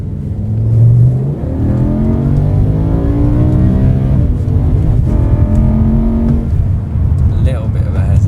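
A car fitted with a swapped BMW S85 V10 engine and a DCT gearbox accelerates hard, its engine note rising through quick gear changes, with a loud interior drone.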